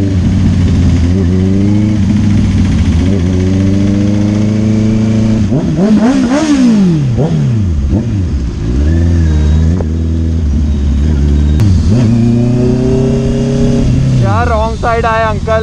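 Loud close motorcycle engine fitted with a Bazooka exhaust, revving up and down through repeated rising and falling sweeps, with speech partly over the engine noise.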